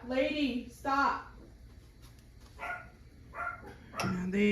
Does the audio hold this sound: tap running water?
no